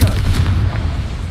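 Confringo blasting spell exploding in Hogwarts Legacy, a loud, heavy boom with a deep rumbling low end that decays over about a second, alone without talk.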